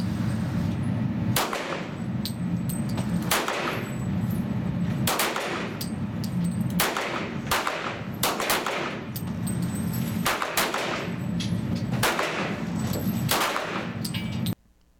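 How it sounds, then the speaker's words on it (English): Smith & Wesson Chiefs Special revolver fired at a shooting range at a 5-yard target, a string of about nine loud sharp shots at irregular intervals, each ringing briefly over steady background noise. "Here's a short video of the gun in action at the range."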